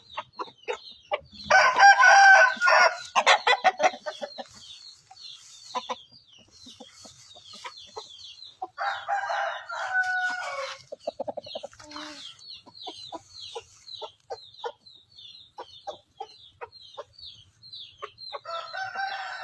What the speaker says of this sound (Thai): ชุดนี้เป็นชุดไก่พม่ามาปีที่แล้วนะ ตัวดีๆที่เก็บมาไว้เล่นปีนี้